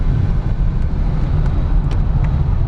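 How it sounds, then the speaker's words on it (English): Steady roaring wind rush around a bent-out car door at about 70 mph, a dense, constant low rumble and hiss inside a front-wheel-drive police-package car with no talking. "Wind noise really picks up just because of that door being so bent out at the top."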